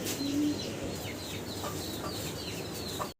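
Lahori pigeons, including a red bar male, coo softly in a pigeon seller's loft amid faint rustling and other bird sounds; quiet and somewhat distant, with no talk.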